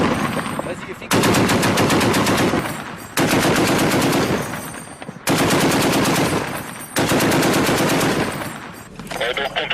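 Sustained machine gun fire from French Foreign Legion troops in Afghanistan, loud and close, in three long bursts of rapid shots separated by brief pauses, with faint voices between bursts.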